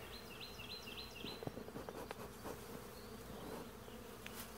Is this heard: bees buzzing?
yes